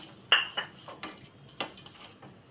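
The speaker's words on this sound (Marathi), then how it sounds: "आता हे सर्व मी त्याच्यामध्ये मसाला मिसळून घेत आहे" Masala being stirred into a pomfret fish marinade in a dish, heard as a run of light clinks and scrapes of a spoon against the dish, close and fairly quiet, with no talking.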